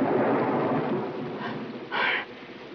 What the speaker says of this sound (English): Oh, I'm just terrified of thunder.